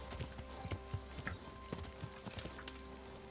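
Horse hooves clip-clop steadily in Kingdom Come: Deliverance, a regular run of moderately loud, close hoof beats ending in a sharper thud.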